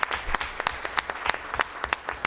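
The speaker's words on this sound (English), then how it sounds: "I want a round of applause for them" An audience at an education advisory board meeting claps in a sustained round of applause, individual sharp claps standing out clearly in an irregular rhythm, close and fairly loud with no talking over it.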